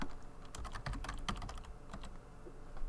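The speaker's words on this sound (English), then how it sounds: "Moving keyboard now to type thing that I need to type." Someone types on a computer keyboard with quick, irregular clicking keystrokes, close and fairly quiet, with no speech over them.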